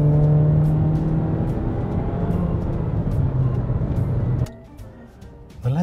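A 2016 Fiat 500X Lounge AWD engine pulls steadily under acceleration, a close, continuous drone with rising harmonics that drops away abruptly near the end to a quieter cabin hum.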